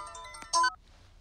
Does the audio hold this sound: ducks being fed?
no